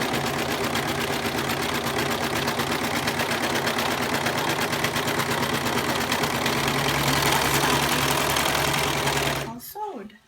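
A sewing machine stitches fabric for a doll pillow with a steady, fast mechanical whir close by, running continuously for about nine seconds before stopping abruptly.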